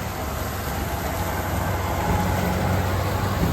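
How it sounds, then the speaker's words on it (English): A brand-new tractor on its first day out, its engine running at a steady low rumble, close and continuous with no talk. "The new tractor, this is the first day out for it."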